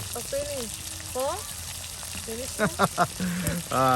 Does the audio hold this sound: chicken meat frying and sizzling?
yes